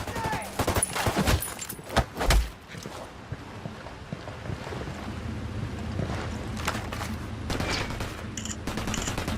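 Gunfire in Ghost Recon Wildlands during a fight with Santa Blanca cartel forces: a few sharp, loud shots near the start, then a steady rumble with scattered distant pops.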